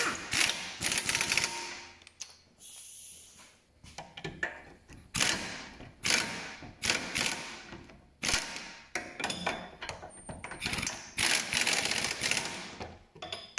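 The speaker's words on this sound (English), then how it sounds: "Tighten these caliper bolts up." Wrench tightening the brake caliper bolts on a Lexus GS, giving a string of sharp metallic clicks and ratcheting bursts in quick irregular runs, close by and fairly loud, with short pauses between pulls.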